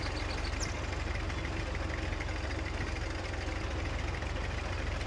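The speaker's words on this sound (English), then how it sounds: "definitely not a very good sounding tractor" A small Allis tractor engine idles in the Farming Simulator video game, a steady, rough, buzzing drone that runs unchanged and unbroken throughout with no talking.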